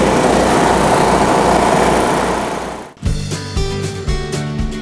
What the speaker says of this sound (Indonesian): Jadi bapaknya lagi nyalain mesin